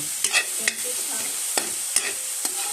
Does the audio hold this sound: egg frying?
yes